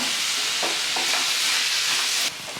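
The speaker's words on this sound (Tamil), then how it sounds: "நல்லா வதக்கி எடுத்துக்கலாம்" Capsicum and vegetables sautéed and stirred in a pan over medium heat for white radish rice, giving a steady close sizzle with scraping stir strokes, ending abruptly.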